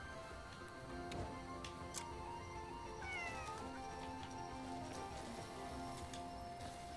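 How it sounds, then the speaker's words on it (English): A cat in the video game Crimson Desert meows several times, clear and near, over a steady bed of game ambience with light ticking sounds and no talking. "befriended by the cat."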